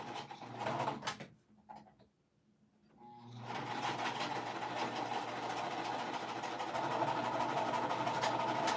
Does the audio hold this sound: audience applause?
no